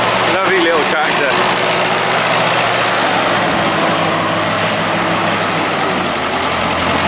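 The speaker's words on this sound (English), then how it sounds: "Lovely little tractor." A vintage grey Ferguson tractor engine runs loudly and steadily close by, with a continuous low throbbing drone and a few brief knocks near the start, while someone talks over it.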